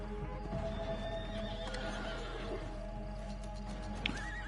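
Horse in Red Dead Online whinnying over a steady bed of game ambience, with clip-clopping hooves nearby, a sharp bright squeal near the end.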